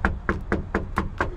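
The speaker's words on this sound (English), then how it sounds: "Knock on the door." Six quick, evenly spaced knocks on a door, sharp and close, in a steady rhythm with nothing else in between.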